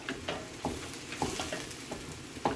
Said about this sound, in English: And we'll just saute all this until it's all cooked through.